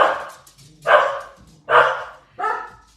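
A small puppy gives three or four high, close yips at a steady pace, each loud and clear against a quiet indoor room.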